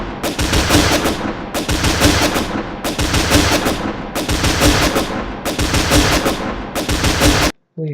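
Loud, close bursts of rapid automatic gunfire in a video game, coming in about six long volleys of roughly a second each separated by short gaps, then stopping abruptly.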